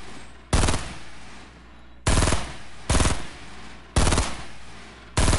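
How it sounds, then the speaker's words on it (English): Heavy gunfire in Fortnite: five loud, sharp bursts of rapid shots spaced about a second apart, each cutting off abruptly, with a low hum of game ambience between them and no talking. "Where are you shooting, Dylan?"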